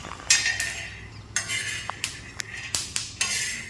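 Peanuts dry-roasting in a pan for peanut chutney powder give sharp, scattered crackles and clinks as a ladle stirs them, several distinct pops standing out over a steady scraping rustle, close and fairly loud.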